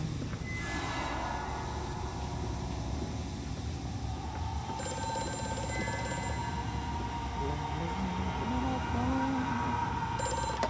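A telephone rings in the horror game Amnesia: A Machine for Pigs, a bright repeating bell over a low droning industrial hum, with creaking mechanical tones rising later.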